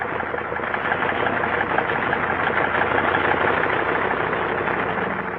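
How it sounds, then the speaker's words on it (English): Military aircraft engines warm up on an airfield flanked by mountains, a steady, dense, droning roar that holds constant with no voices. "The sound of the engines warming up starts before dawn, echoing back from the mountains that flank the field."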